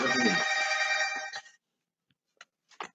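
A mobile phone rings loudly in a room, one sustained ringtone burst that cuts off, followed by faint scattered taps and clicks.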